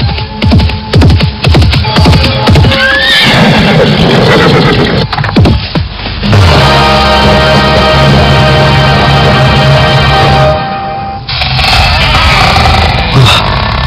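In an audio drama, a rider on horseback arrives in a home's courtyard. Sharp hoof clops come first, then a horse's whinny, followed by a loud, sustained droning tone that lasts until near the end.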